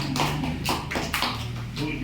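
Children in a classroom clap their hands in a quick rhythmic beat, roughly half a dozen sharp claps in two seconds, with voices chanting along.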